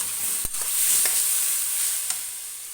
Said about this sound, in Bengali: ভালোভাবে এই মশলাটা আমি কষিয়ে নেব।